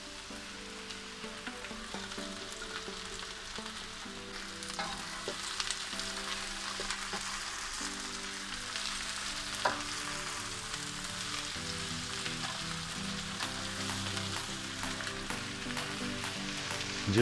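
Onion and mushrooms fry in a hot pan for beef stroganoff, giving a steady, dense sizzle that runs the whole time with small crackles and stirring scrapes, close and alone with no talk.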